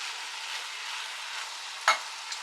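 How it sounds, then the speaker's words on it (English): Drained beans going into a pan of frying food for a tater tot casserole, with a steady soft sizzle and a brief scrape of stirring near the end, no talk. "we're gonna add our beans. See, we drained them good"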